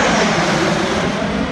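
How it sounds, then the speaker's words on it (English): A jet aircraft roars past at supersonic speed, a loud, close, continuous broadband rush that fills the whole moment without any voices. "That guy was going supersonic."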